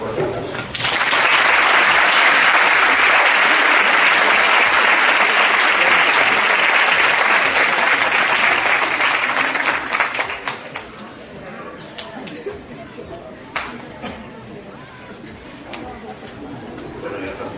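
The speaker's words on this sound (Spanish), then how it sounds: "por favor vamos a recibirlo con un fuerte aplauso." A conference audience gives a loud, sustained round of applause that welcomes a speaker, dense clapping for about ten seconds before tapering into scattered claps and murmurs.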